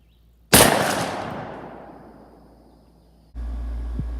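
A 12 gauge shotgun fires a single Federal FliteControl 00 buckshot load, one sharp loud blast that decays into a long fading echo before a steady background hum returns.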